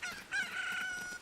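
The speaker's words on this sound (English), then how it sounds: "I don't think dogs are supposed to make chicken noises." In an Ocarina of Time randomizer game, a dog character lets out a chicken's cock-a-doodle-doo crow, a single loud clucking call lasting about a second, heard alone with no talking.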